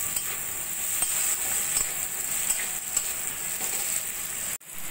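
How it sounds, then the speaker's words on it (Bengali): Fried cauliflower and carrot are stirred into a spice paste in a pan, giving a steady, close sizzle with faint scraping, ending in a brief stop. "ফুলকপি গাজরটা ভালো করে মশলার সঙ্গে মিশিয়ে নেব।"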